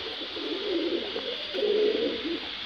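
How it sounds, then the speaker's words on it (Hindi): Malwai pigeons coo softly in low, rolling murmurs, several overlapping calls close by against a steady background hiss. "ये भी बेहतरीन मलवई कबूतरों का जोड़ा है दोस्तों।"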